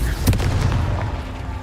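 The blasting Confringo spell explodes in Hogwarts Legacy with a loud booming burst followed by a few rumbling secondary thumps that fade under the game's steady background.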